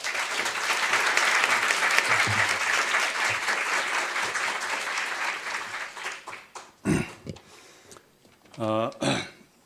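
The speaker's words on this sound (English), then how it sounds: "So please give him a big round of applause." An audience at a public address on India-Korea relations breaks into sustained applause, a dense wash of clapping that fades out, followed by someone speaking into a microphone.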